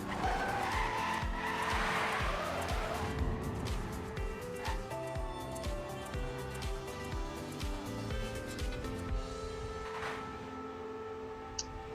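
Race cars in an online racing video game squeal and skid through the final turns of a lap, a steady loud wash of engine drone and tire noise with sharp transient screeches throughout.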